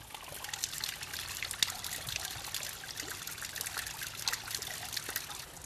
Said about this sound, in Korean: 오늘 그가 녹음할 소리는 바로 떨어지는 물소리.